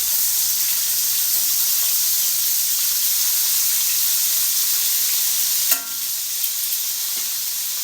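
Marinated lamb chops pan frying give a steady, loud, close sizzle that holds for several seconds, with a brief sharper crackle partway through before the hiss settles back.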